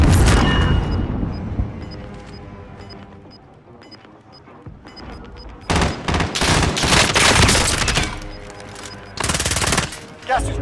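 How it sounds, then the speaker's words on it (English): Call of Duty: Modern Warfare battle audio brings bursts of rapid automatic gunfire and heavy grenade blasts, loud and close, with a quieter lull midway before dense volleys of shots and explosions return. "Throwing grenade."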